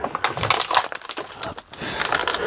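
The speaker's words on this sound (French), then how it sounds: "Je suis en train de marcher sur une bouteille en plastique depuis tout à l'heure." Footsteps crunch and crackle over a plastic bottle inside an abandoned château, in dense irregular bursts with a short pause midway, close and fairly loud.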